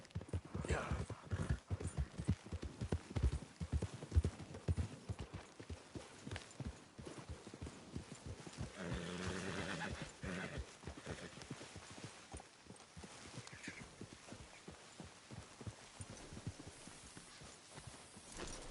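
Rhythmic clip-clop of horses' hooves walking on a hard surface in a video game, steady and close, with faint voices now and then.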